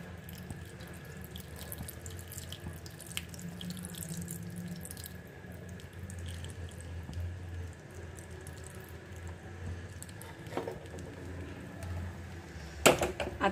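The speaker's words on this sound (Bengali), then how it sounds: "দেখুন সেটা আমি ছেঁকে নিচ্ছি।" Cooled boiled tea-leaf water is strained and poured, a steady trickling and dripping stream running for several seconds, with a sharper splash near the end.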